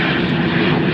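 A business jet passing high over LAX airport makes a loud, steady, broadband roar that fills the whole moment without talk.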